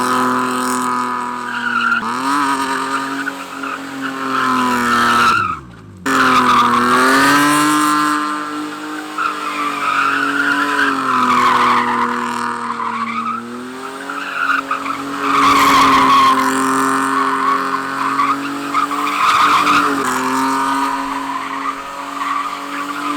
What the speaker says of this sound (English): we can go back on the skid pad and work on some donuts